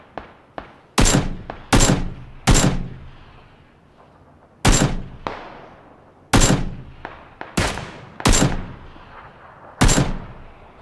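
Gunfire from the video game PlayerUnknown's Battlegrounds rings out as loud, sharp single shots at irregular intervals, some in quick pairs, each followed by a short decaying echo, with no voices.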